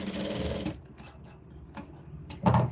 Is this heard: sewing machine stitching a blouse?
yes